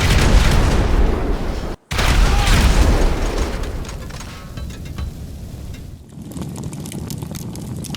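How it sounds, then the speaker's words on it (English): A gas cylinder explodes violently after falling to the ground, a loud, dense boom with a roaring burst that cuts off sharply, then a long rumbling, fading tail. "A gas cylinder fell on the ground, and unfortunately, it exploded very heavily."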